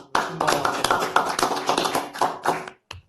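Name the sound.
slow clapping at a board meeting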